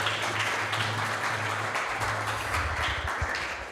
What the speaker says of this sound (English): Let's have another round of applause for Hari Parshad Prabhu.